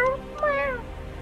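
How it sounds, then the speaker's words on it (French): A cartoon cat gives two clear meows, the second longer with a rising-falling tone, loud and up close, with no talking over it. "Oh, je ne comprends pas le chat."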